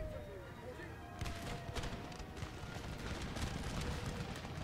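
Musket volleys ring out in the Empire: Total War battle, a dense crackle of massed gunfire from about a second in, rolling steadily under continuous battlefield din and a voice.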